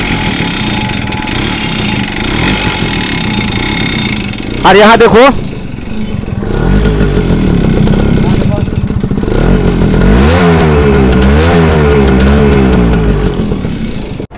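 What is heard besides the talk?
old two-stroke motorcycle engine starting, running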